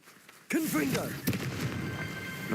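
A Confringo blasting spell is cast in the video game Hogwarts Legacy: a voice shouts the incantation, then a sharp, loud blast hits and trails into a sustained rumbling wash.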